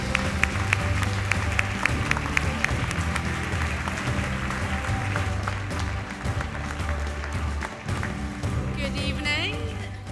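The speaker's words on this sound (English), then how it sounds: "Please give them a huge round of applause." Audience applause at the British Academy Scotland Awards ceremony, sustained clapping under background music and some voices.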